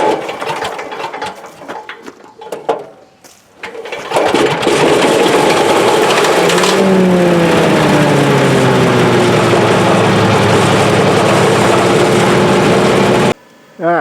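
A small engine on a leaf vacuum, fitted with its impeller blade, catches after a hot choke start and runs loud and steady for about ten seconds, its pitch rising, after a few quiet sounds and some brief talk.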